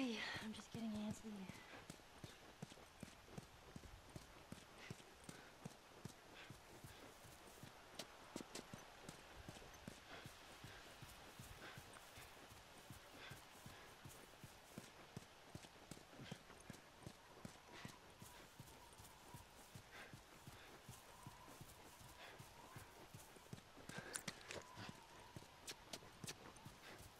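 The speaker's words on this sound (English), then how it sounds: "Watch the horse. Why don't you watch the horse?" Steady horse hooves clip-clop at a walking pace through The Last of Us video game, with a sparse game soundtrack and occasional voices over the regular rhythm.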